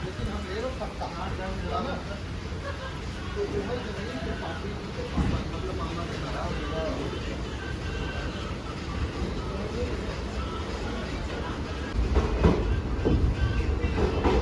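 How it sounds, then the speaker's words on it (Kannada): A Madgaon–Mangalore Central passenger train pulls away with a continuous, fairly loud rolling rumble and wheel clatter that stays steady throughout, swelling slightly near the end. "Madgaon junction Mangaluru central passenger depart ಆಗತೈತಿ"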